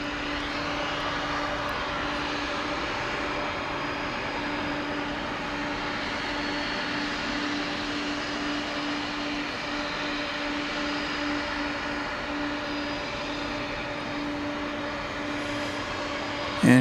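Jet airliner engines at DFW Airport drone steadily at moderate distance, a broad continuous roar with a constant whine held throughout, swelling briefly at the very end.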